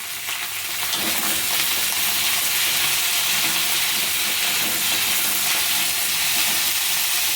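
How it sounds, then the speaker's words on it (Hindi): Okra frying in a pan with a pinch of turmeric, stirred now and then, a loud steady sizzle and hiss close up throughout with no talking. "और अब भिंडी में डालेंगे 1 पिंच जितना हल्दी, और बीच बीच में चलाते हुए इसे हम भून लेंगे।"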